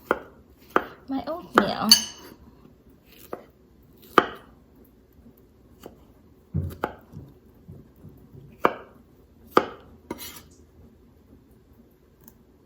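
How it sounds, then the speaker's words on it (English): Knife slicing strawberries on a cutting board for oatmeal, giving a series of sharp, separate chopping taps at irregular intervals, fairly close, with a brief spoken phrase partway through. "So now I am going to slice this strawberries for"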